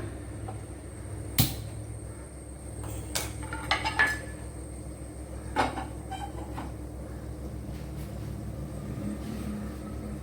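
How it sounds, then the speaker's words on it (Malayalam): A pan set down on a home kitchen stove for bitter gourd pickle, a few sharp metallic clanks and knocks among quieter clinks and cupboard-like bumps, close, with no voices. "ഇനി ഇവിടെ ഒരു പാൻ വെച്ച് കൊടുക്കാം"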